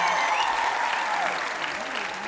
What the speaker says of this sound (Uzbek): menimcha qarsaklarni balandroq chalsak arziydi